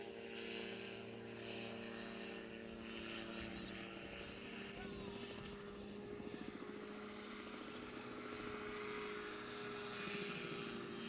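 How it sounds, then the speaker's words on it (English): A small propeller aircraft maneuvers low over a 1995 small-town flying club fly-in, its engine drone steady and fairly close throughout, with a voice talking over it. "You can see how highly maneuverable that is."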